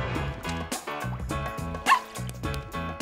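Cartoon puppy barks in a children's animated show, a few short, bright yips spaced over a bouncy musical score, close and clear with no talking over them.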